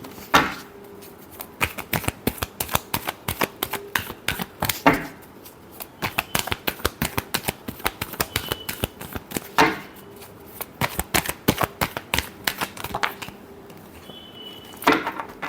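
Tarot cards shuffled by hand in a long run of rapid, crisp riffling clicks, broken by a few louder slaps as the deck is squared, close and alone.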